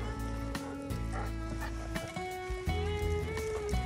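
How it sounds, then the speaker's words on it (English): A French bulldog snores with rough, droning, rhythmic breaths, close and fairly steady, mixed with a faint whining tone and some indoor background noise, with no clear talking. "She's not growling, she's only snoring."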